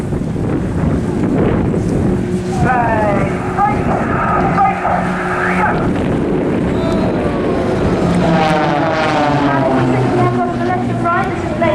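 Blades display team aerobatic aircraft at the 2018 Eastbourne Airshow fly pairs manoeuvres of four-point rolls into snap rolls, a steady wind-blown roar of engines heard from a distance under continuous loudspeaker commentary.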